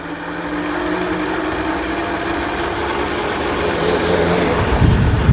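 A car alternator rigged as an electric bicycle motor runs with a steady whirring drone that holds fairly loud and close, with a brief bump near the end.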